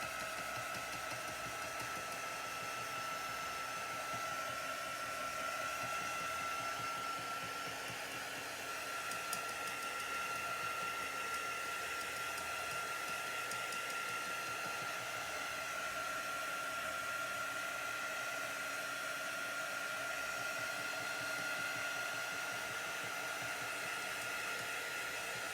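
A hair dryer blows on chalk paste over a stencil, a continuous, even whirring roar held steady for the whole stretch, close and unbroken.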